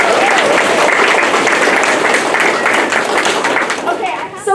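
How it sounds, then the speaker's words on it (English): An audience applauds loudly and steadily with dense clapping and some crowd noise, fading slightly near the end. "Give yourselves a round of applause for supporting"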